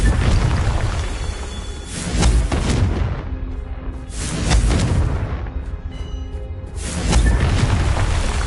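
The Confringo blasting spell goes off in Hogwarts Legacy, with three heavy booming explosions a couple of seconds apart, each a loud rumbling blast that swells and decays into the next.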